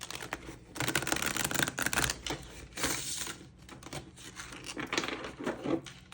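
Rapid riffling of playing cards shuffled in bursts, a crisp fluttering clatter repeated several times at close range with no talking.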